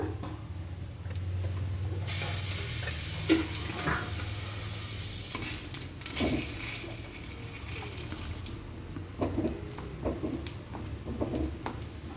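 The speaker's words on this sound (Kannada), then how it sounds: "ಸ್ವಲ್ಪ ಎಣ್ಣೆ ಹಾಕಿ ನಾನು ಫ್ರೈ ಮಾಡ್ತೀನಿ ಟೊಮೊಟೊನ." Tomatoes fry in oil in a pan over a high gas flame for a tomato chutney, giving a steady low sizzle with occasional stirring scrapes and clinks throughout.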